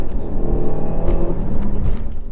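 Renault Megane Trophy 300 hot hatch heard from inside as it accelerates hard on a national speed limit road, engine droning loud and steady for a couple of seconds with gear drops, no voices.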